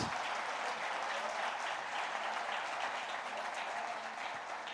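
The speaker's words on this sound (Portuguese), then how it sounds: "Você pode aplaudir Jesus?" A church congregation applauds in a steady, sustained burst of clapping that fills the room evenly for several seconds before tapering slightly at the end.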